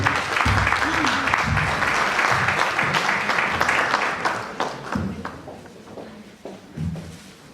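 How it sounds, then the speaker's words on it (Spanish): Audience applause at an evening Latin American sociology congress session, a sustained dense round of clapping filling the room, with murmured voices mixed in, thinning out toward the end. "Nuestro aplauso para Jaime Ríos Burga."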